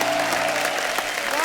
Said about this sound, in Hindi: जोरदार तालियां हो जाएं हमारे कैप्टन के लिए।